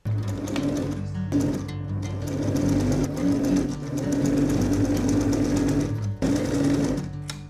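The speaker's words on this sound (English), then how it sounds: "I'm going to sew leaving a 1 centimeter seam allowance from one side towards the other." A sewing machine runs close up, stitching a seam in a linen blouse with a steady, loud motor whirr and rapid needle patter, pausing briefly a couple of times between bursts.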